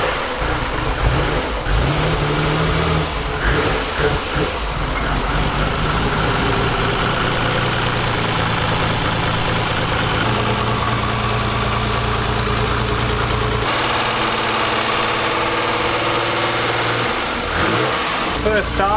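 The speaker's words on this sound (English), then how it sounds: "First startup sounds really good, and the belt squeal's gone." A Nissan R32 GTR with an RB26 twin-turbo engine starts for the first time and idles with a steady, rough mid-low drone and some revving, close by, with a person talking over it at times.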